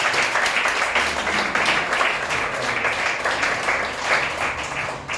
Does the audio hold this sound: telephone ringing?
no